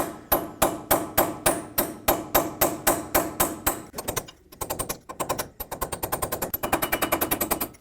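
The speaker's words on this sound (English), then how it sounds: "You could get a pry bar or anything that you have that's small enough to fit in that lip there, and just tap it till it breaks free." A pry bar taps hard against a lower control arm part on a 2004-2008 Ford F-150 to break it free. Sharp metallic strikes come in a rapid, steady series, then a brief pause, then a faster run of blows, loud and close.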